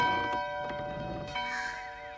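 A church bell tolls in the video game Diablo 4, a sustained metallic ring with lingering overtones, mixed with a few soft ticks and a crow-like call fading in at the end.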